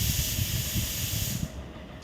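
Potatoes dropped into hot cooking oil while making gime shak chorchori give a loud, steady hiss of sizzling that suddenly thins out and quiets after a second and a half.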